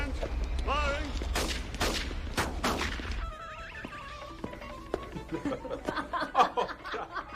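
Bursts of gunfire in a sci-fi film, a rapid crackling volley close up for about three seconds, followed by quieter scuffling and voices talking and shouting.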